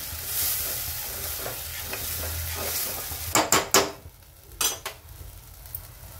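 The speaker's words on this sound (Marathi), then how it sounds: "आपला मसाला भाजलेला आहे, पण तरी पण असा तेलामध्ये परतून घ्यायचा" Spice masala frying and being stirred in hot oil for a Maharashtrian brinjal and green chilli curry: a steady close sizzle under scraping stirs, with a few sharp spatula knocks against the pan near the end. No one speaks.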